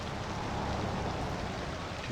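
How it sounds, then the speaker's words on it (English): Steady rain falls in the city-building game Cities: Skylines II, a soft, even hiss of summer rain with no variation and no talk. "just a rain in the middle of the summer"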